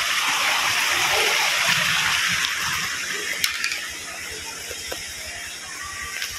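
Water gushes and splashes out beside a creek at the foot of a mountain, a loud steady rush near at hand that eases slightly partway through, with a few faint clicks.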